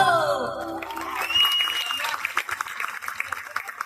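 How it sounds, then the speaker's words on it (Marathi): Applause breaks out at a Ganesh festival cultural program as music fades, scattered clapping building through the hall, with some voices and a trailing musical tone under it. "जोरदार टाळ्या होते, जोरदार टाळा"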